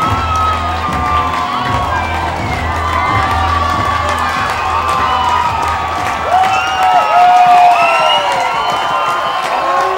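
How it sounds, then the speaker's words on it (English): A sellout minor-league baseball crowd at a Long Island Ducks versus Bridgeport Bluefish game roars and cheers, hoping for a strikeout, with sustained shouting, whistles and whoops swelling loudly near the end. "now you'll hear this sellout crowd get squarely behind John Malone, hoping for a strikeout to end it"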